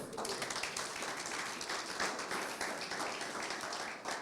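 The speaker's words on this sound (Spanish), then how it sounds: "Demos un aplauso al Señor." A church congregation claps for the Lord during a worship service, a fairly faint but continuous patter of many hands that stays even throughout.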